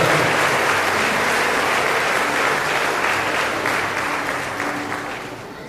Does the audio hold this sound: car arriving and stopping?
no